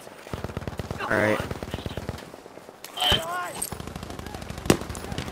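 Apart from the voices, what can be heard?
gunfire in video game Battlefield 5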